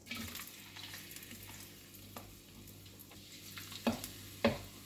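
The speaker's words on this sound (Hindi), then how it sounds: "अब हम घी में डाल देंगे किशमिश।" Raisins fry in ghee with a soft, steady sizzle, quiet and close. A few light clinks of a stirring spoon come toward the end.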